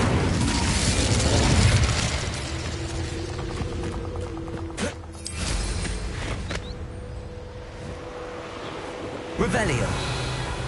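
Incendio fire spell cast in Hogwarts Legacy, a loud burst of rushing flame at the start easing into crackling, with a few sharp pops and thumps later over a low ambient bed.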